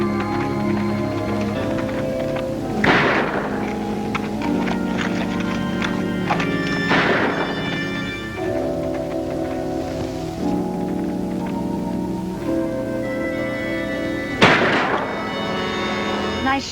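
Gunshots ring out during outdoor shooting practice in a 1950s Western, three sharp, loud cracks spaced several seconds apart over a background of music and scene noise.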